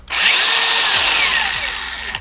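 A DeWalt FlexVolt 54V cordless angle grinder runs steadily at high speed, a loud close whine with a smooth soft-start rise at the beginning and no talk over it.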